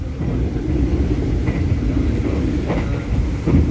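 A passenger train runs at full speed, around 120 km/h, on a nonstop Semarang–Jakarta run toward Gambir station, giving a loud, steady rumble with no gaps and no voices.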